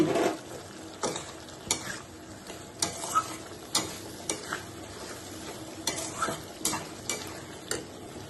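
Soaked lump asafoetida drops into a frying pan for a vegetarian potato, pointed gourd and soya chunk curry, giving soft sizzling under a string of sharp stirring clicks and scrapes, close and moderately quiet.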